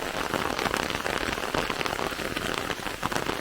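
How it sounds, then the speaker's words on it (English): Heavy rain pours steadily on the Elder's Cottage Trail in Khonoma, a dense, continuous hiss of drops striking surfaces close by, with no voices. "it is raining heavily, so no birding, nothing."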